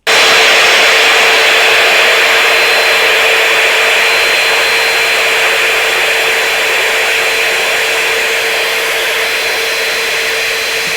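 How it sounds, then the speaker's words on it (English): A vacuum cleaner sucks dust and crumbs from the rim of a SNOO bassinet base, a loud, steady high-pitched whine with a constant airflow hiss that barely changes from start to finish. "You can take your vacuum and try to get as much as you can out by just circling the rim."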